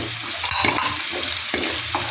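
Whole spices, cardamom and fennel with cloves and star anise, sizzling in hot oil, a steady close crackle with faint stirring taps, no voices.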